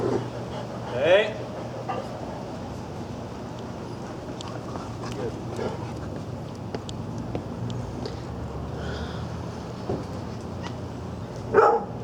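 Dogs give a couple of brief barks near the start and again near the end, over a low steady hum, while a person talks to them between barks.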